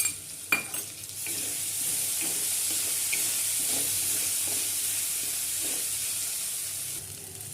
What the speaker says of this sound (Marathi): आता मिरची छान प्रकारे इथं परतलेलं आहे.